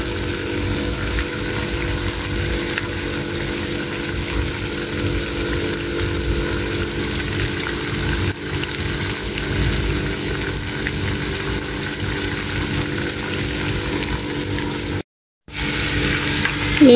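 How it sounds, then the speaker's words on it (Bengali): Onion pakoras (peyaju) frying in hot oil give a steady, loud, dense sizzle that runs unbroken with one brief cut near the end. "পেঁয়াজুটা তেলের মধ্যে আমি ছেড়ে দিয়েছি।"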